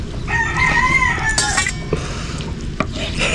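A rooster crows loudly and close by, with other chickens around it, followed by scattered clinks and stirring like pots and utensils in the background.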